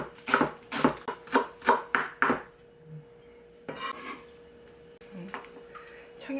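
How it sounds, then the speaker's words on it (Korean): A knife slices green onion on a cutting board for a seasoning sauce, with about seven quick, evenly spaced chops followed by scattered softer knocks and scraping. A voice talks faintly in the background. "이제 양념장에 들어갈 대파를 이제 썰어 줄게요"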